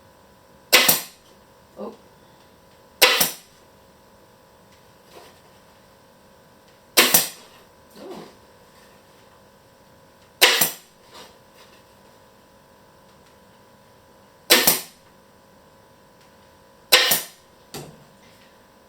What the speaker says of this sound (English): Staple guns being a bit temperamental.